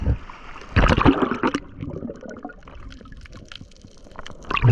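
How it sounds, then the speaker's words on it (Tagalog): Strong river current rushes steadily while fishing in deep water, with louder splashing bursts near the start and end and low broadband flow throughout. "Napakalakas ah, ng agos."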